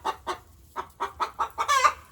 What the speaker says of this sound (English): She's fussing at another hen that's down in there in that hole